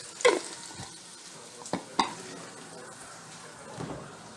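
Two tablespoons of chopped garlic hitting a hot pan for lentil soup, a faint sizzle with a few sharp scrapes and clicks of stirring, fairly quiet and close.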